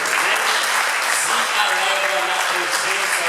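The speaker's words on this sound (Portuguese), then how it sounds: "Dê uma linda salva de palmas para o Senhor." Church congregation applauding during a worship service, a dense continuous wash of clapping from many hands filling the room, with voices mixed in underneath.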